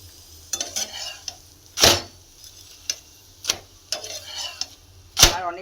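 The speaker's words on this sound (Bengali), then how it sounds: "এবার লাচ্ছা পরোটাগুলো ভেজে নিচ্ছি, তেল দিয়ে দিয়েছি, খুব সুন্দর ভাজা হচ্ছে।" Lachha paratha frying in oil in a pan, with a soft bed of sizzle broken by several sharp clinks and scrapes of a utensil turning the flatbread, a few loud strikes standing out over about five seconds.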